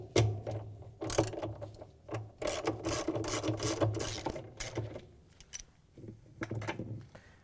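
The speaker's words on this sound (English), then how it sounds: "we can use our 1/2-inch socket with a ratchet and extension and take the bolt out that holds the agitator in" Ratchet and extension with a 1/2-inch socket working loose the bolt that holds the agitator in a Frigidaire/Electrolux washer: repeated close clicking and metallic rattling bursts in an uneven rhythm, with brief pauses between strokes.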